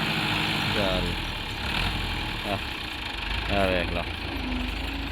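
A tractor engine idles with a steady low rumble and faint knocking, while someone talks briefly over it.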